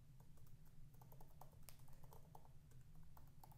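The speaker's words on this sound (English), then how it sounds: "I'm typing here, so you might hear clicking" Soft, steady clicking from a computer keyboard as someone types continuously, quiet and close with an even patter of keystrokes.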